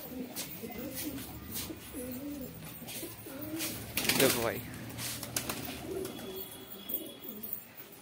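Pigeons released from their enclosure coo in soft, repeated rounds nearby, with a short burst of wing flapping partway through while someone talks over them.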